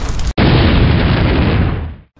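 Explosion sound effect for a Gundam mobile suit blowing up: after a brief cut to silence, a loud, close, rumbling blast sustains for well over a second before fading out quickly.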